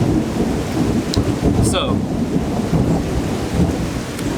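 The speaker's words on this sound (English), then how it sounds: "I enjoy the storm. We needed some rain. I don't know if we needed this much rain." A heavy thunderstorm with dense, loud rain pouring close by and low thunder rumbling underneath throughout, with a brief sharp crackle partway through and a voice saying a single word.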